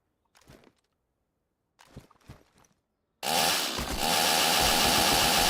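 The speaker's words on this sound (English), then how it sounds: "How do you start the chainsaw?" A chainsaw in DayZ roars to life and runs loud and steady for the last two seconds, after two short bursts of muffled mechanical sputtering separated by silence.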